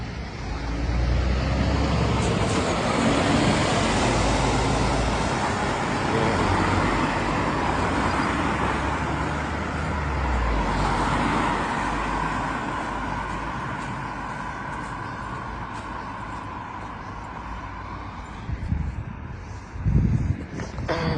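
Cars drive past on a snowy road in England, a continuous loud roar of traffic and tyre noise that eases off slightly, then a few bumps near the end.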